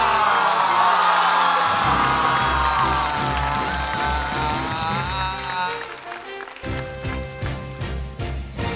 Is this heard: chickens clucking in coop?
no